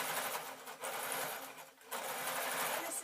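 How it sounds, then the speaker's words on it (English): A sewing machine stitches a small felt leaf for a daffodil card, running ordinary thread in a steady, close, continuous whir with a brief pause midway. "this is going to be quite tricky for the sewing machine to sew"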